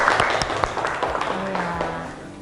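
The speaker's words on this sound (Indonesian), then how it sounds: "dan tepuk tangan untuk kita semua." A classroom of students claps together after a discussion. The applause is close and fairly loud with uneven individual claps, and it thins out toward the end, while a teacher's voice is heard at points.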